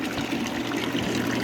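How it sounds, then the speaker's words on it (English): Water trickling down the pads of an evaporative swamp cooler fed by a water spider distributor, a steady close wash of running water with a low pump hum beneath and no talk. "that water just trickles down the pads"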